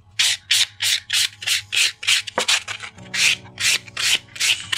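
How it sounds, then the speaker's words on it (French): A white buffer block rubbed across an acrylic stiletto nail, a rapid run of about a dozen loud, close, even rasping strokes in a steady back-and-forth rhythm. "vous prenez votre bloc blanc et on va venir donc enlever toutes les petites éraflures faites par la lime avec le bloc blanc"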